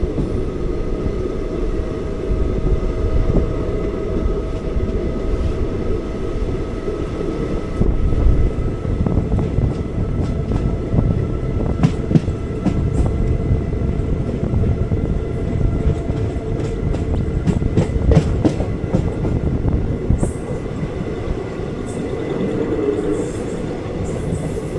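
The 06061 Summer Special Express runs along the line from Ernakulam toward Velankanni, heard from inside as a constant loud low rumble with rhythmic wheel clatter over rail joints and occasional squeals, no talk.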